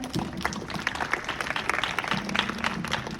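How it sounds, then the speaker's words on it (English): An audience at a school National Youth Day celebration applauds a young student performer, steady dense clapping filling the hall throughout, with a faint voice and a humming tone underneath. "So please give a huge round of applause for her."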